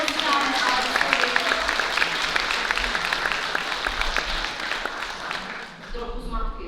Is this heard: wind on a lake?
no